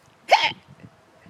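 A single sharp hiccup from a baby lying in a hammock, loud and close, followed by soft faint murmuring.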